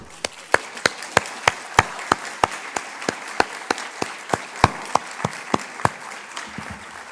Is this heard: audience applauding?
yes